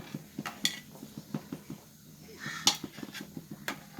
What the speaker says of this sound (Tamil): அப்படியே ஒரு மூடியை போட்டு க்ளோஸ் பண்ணிடலாம்